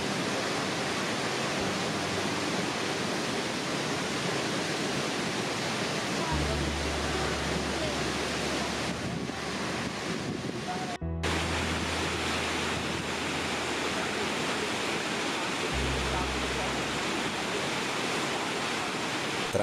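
The Krimml Waterfalls in the Austrian Alps roar as a steady, dense wash of falling water that fills the whole span evenly, with occasional low wind rumble on the microphone.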